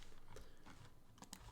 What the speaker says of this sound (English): You typed on Windows Defender,